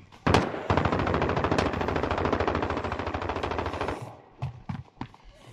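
Sustained automatic gunfire in Call of Duty Warzone, a loud, close machine-gun burst lasting several seconds, followed by a few scattered single shots.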